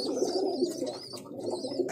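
Pigeons coo softly and repeatedly at close range, low rolling calls overlapping in a steady murmur.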